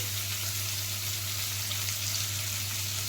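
Onion pieces, green chillies and curry leaves fry in oil for a bitter gourd pulusu, an even steady sizzle with a low background hum, quiet and without stirring or voices.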